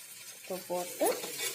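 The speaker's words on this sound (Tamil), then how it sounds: "மறுபடியும் கிண்டி விடலாம்" Ivy gourd stir-fry gets stirred in a pan, a few soft scraping clinks of a spatula over a faint sizzle, quiet and close.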